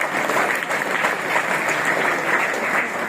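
A mushaira audience at a poetry gathering claps together, steady and fairly loud, many hands blending into an even roar with no speech over it.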